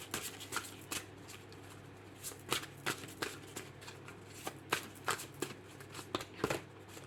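Large tarot cards shuffled by hand, a string of soft, irregular riffling and slapping bursts that grow denser toward the end, close and quiet with no speech.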